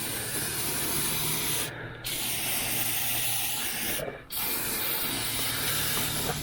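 Rust-proofing coating is sprayed steadily under a rusty pickup truck around the rocker panel, a loud continuous aerosol hiss broken by two brief pauses.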